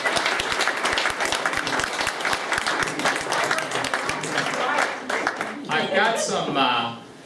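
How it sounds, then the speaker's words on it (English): An audience at a grocery store's 100th anniversary celebration claps in sustained, dense applause for several seconds before it thins out and voices take over at the end. "let's give these folks a round of applause"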